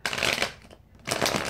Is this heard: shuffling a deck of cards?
yes